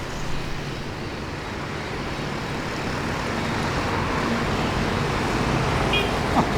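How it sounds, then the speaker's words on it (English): Steady rush-hour street traffic in Saigon, Vietnam, forms a continuous broadband roar of passing vehicles and engines, moderately loud and unbroken, with no talk over it. "Traffic was light today for rush hour."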